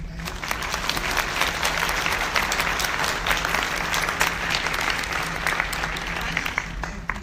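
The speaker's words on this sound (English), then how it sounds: "Can I just have one more big round of applause for this?" Conference audience applauds in a sustained, dense round of clapping that stays steady and loud for several seconds.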